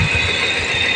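A vehicle engine runs quietly and steadily at idle, close by, as a continuous even hum with faint rattle and no voices over its brief span.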